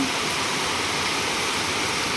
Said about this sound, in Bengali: আর জোরে বৃষ্টি চলে এসছে